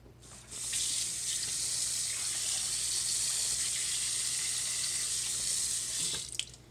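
Tap water runs steadily into a sink while striped bass is washed with salt, a close, even hiss that starts abruptly and stops with a small clunk at the end.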